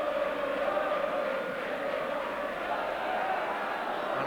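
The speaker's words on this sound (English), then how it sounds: "And quite a crowd there." Large football stadium crowd at an Aston Villa versus Tottenham match, a steady wash of murmuring and cheering voices held at an even level throughout without clear peaks.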